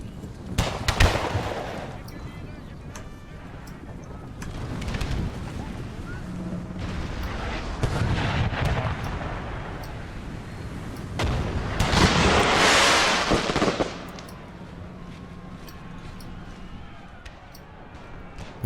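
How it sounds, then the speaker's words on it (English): Musket volleys crackle through a Napoleon Total War battle, bursts of gunfire rising in uneven clusters with a heavier stretch of firing midway, heard alongside ongoing battlefield noise. "Now the KGL lights moving forward to form a bit more of a structured line as the muskets start firing"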